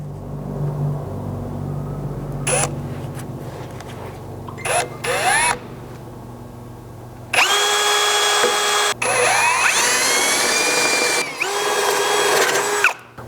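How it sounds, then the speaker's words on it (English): A power drill whirs in several bursts, first short starts, then long sustained runs that rise in pitch as bits of increasing size bore a pilot hole up to 7/16 inch through a 4th Gen Toyota Tacoma's metal for rock sliders. "I'll drill out our pilot hole here"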